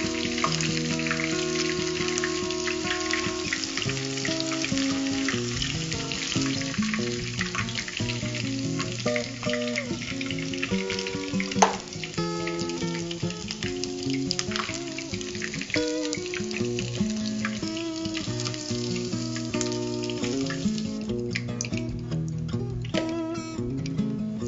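Chicken pieces fry for sweet and sour chicken, a steady, continuous sizzle heard beneath background music that plays throughout.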